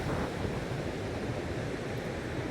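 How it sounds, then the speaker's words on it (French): Strong wind buffets the microphone on a high outdoor spot above a campsite at Sidi Ifni, a loud continuous low roar and rumble with no voices. "Il y a beaucoup de vent."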